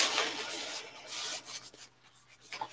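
Wet sanding an aluminium foil panel on a model with 800 grit wet and dry paper, a soft continuous rubbing rasp in repeated strokes, fairly quiet and close, with no talk.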